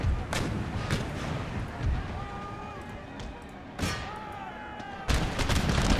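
Troops fire volleys at an enemy regiment in the Empire: Total War video game, heard as a few scattered booming gunshots over a steady rumble of battle noise, with a louder burst near the end.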